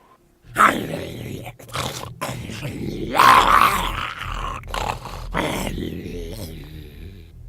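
In Simon the Sorcerer 4, a dog growls and snarls close up in deep, rumbling bursts over several seconds, mixed with a voice talking.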